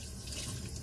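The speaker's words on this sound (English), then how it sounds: "once I put the water on, they pretty much rinse right off" Tap water runs steadily from a faucet as glitter is rinsed off a pair of hands, a close, continuous wash of splashing with no voices.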